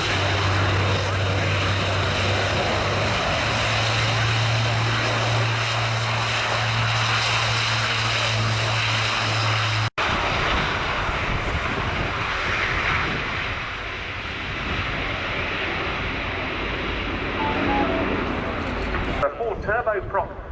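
An Airbus A400M Atlas turboprop airlifter with Europrop International TP400 engines flies a display at the Royal International Air Tattoo, Fairford, a loud continuous propeller roar that holds steady throughout while a commentator talks over it.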